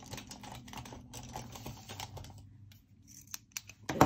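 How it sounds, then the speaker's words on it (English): An X-Acto knife slices through paper while assembling a monthly planner spread, giving soft scratchy strokes in close quiet patches, then a few sharper taps and rustles near the end. "And then we gotta cut with my X-Acto knife."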